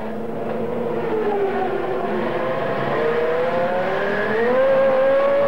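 Williams-Renault Formula One race car with a Renault engine at speed, its high rising engine note held steady and then climbing toward the end, alone without talk.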